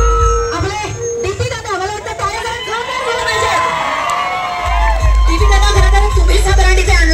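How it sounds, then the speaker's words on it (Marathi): A crowd cheers and shouts excitedly at a shop opening in Akluj. The loud, sustained roar of voices carries whoops, and a steady run of low thumping beats joins in partway through. "मला वाटतं जरा टाळ्या होऊन जाऊ देत जोरात"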